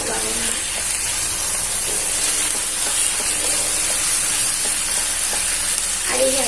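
Onions with a spoonful of salt fry in a pan with a continuous, close hiss and sizzle, broken by occasional stirring scrapes, while a voice talks faintly in the background.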